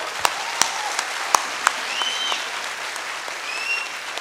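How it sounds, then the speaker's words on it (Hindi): Applause for achievers at a DXN business gathering: a few sharp, loud individual claps stand out early over a dense, moderate wash of crowd clapping, with faint whistle-like tones drifting in. "A big round of applause for all the achievers."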